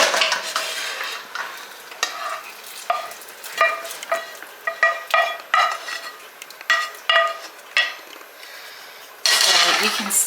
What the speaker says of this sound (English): we're gonna take the veggies that I sauteed earlier, and we're gonna add them in